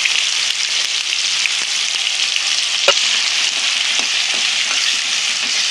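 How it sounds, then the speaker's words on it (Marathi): Onion and curry leaves fry in oil in a pan, making a loud, even, close-up sizzle that hisses steadily throughout with faint crackles and one brief tap. "चांगला कांदा फ्राय होऊ देते"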